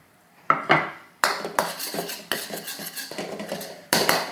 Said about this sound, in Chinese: 去炒这个咸蛋，炒到它起泡。